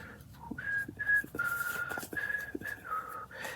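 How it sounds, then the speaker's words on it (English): A person whistles a short melodic tune indoors while crafting, the clear sustained notes rising and falling in several phrases, with faint handling noises and small knocks underneath. "It is me. I am whistling."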